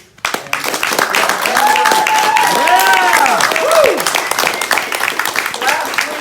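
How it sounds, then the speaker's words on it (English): A room full of people claps loudly and continuously, the applause swelling then slowly thinning into scattered claps, with whoops and a cheering voice over it. "you all owe this man a big round of applause"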